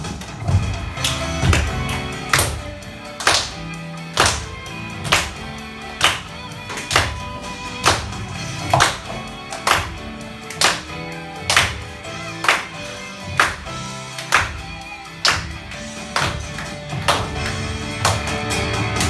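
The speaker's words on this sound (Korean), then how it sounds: "큰 소리로 박수치면서 찬양 불러볼게요." Children in a Sunday school worship service clap loudly in a steady rhythm, sharp repeated claps roughly every second, with singing and music underneath.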